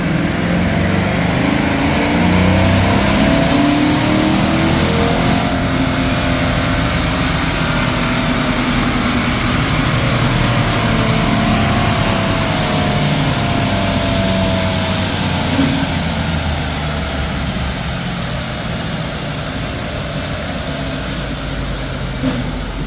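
A GM L83 V8 with a DOD delete and cam swap runs on a dyno, giving a loud, steady, continuous engine drone that holds fairly constant throughout with little change in pitch.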